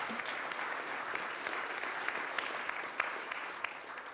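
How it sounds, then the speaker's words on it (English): A conference audience at a space resources session applauds a speaker after his talk, with many hands clapping in a steady, fairly soft wash and a few sharper claps standing out, heard from some distance. "Another round of applause, please, for Adam and his talk."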